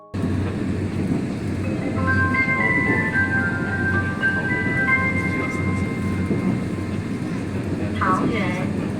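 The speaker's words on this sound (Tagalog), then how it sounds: "So ayan, nakasakay na ako doon sa train." Inside a moving train in Taiwan, a steady low rumble of the carriage runs throughout, with a melodic electronic chime in the middle and a few faint voices in the background.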